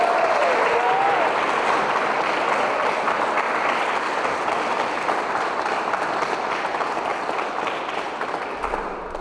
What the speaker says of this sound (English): give a warm round of applause to Cloud